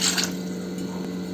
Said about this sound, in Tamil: 3 கிளாஸ் தண்ணி ஊற்றிக்கோங்க.